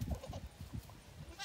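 Two newborn goat kids, one male and one female, bleat in short, repeated calls close by, with a soft murmur of background noise between cries.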